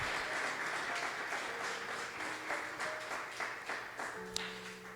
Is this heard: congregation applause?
yes